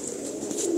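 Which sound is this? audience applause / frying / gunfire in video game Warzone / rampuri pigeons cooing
rampuri pigeons cooing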